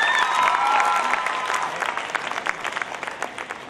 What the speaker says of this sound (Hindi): ताली बजाइए लड़कियों के लिए।